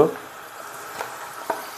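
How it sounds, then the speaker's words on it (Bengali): Chicken leg pieces dropped into a hot wok with onions give a steady, soft frying sizzle, with a couple of faint clicks from the pan. "তো চলো মাংসগুলো আগে কড়াইয়ে দিয়ে দিই।"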